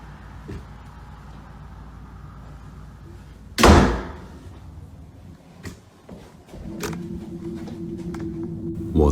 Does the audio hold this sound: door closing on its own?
yes